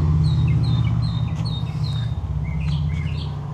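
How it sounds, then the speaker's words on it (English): A bird sings outdoors over a backyard and condo community pool, its repeated high chirping phrases clear and fairly near above a steady low background hum. "apparently I'm in some bird's turf here. He's singing away"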